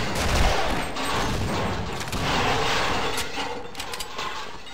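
Machine gun fire in the Half-Life Sven Co-op game, a dense, steady stream of rapid shots running throughout at a loud, close level with no talk.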